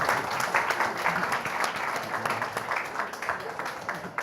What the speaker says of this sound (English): And can we have a big round of applause for our famous dragons?